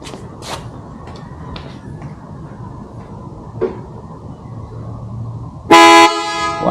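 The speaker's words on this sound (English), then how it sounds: "That there is what this van should sound like when it comes up behind you." After a stretch of quiet ambient noise with a few faint knocks, a PIAA Super Bass Horn on a Mercedes Sprinter van sounds one loud, brief, close honk near the end.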